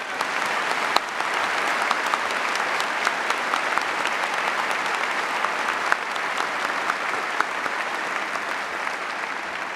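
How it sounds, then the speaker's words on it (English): An audience at a May 2015 SMU graduation ceremony applauds steadily for about ten seconds, a sustained wash of many hands clapping at a constant level, with a few sharper individual claps standing out. "Will you please recognize all of these individuals with your applause?"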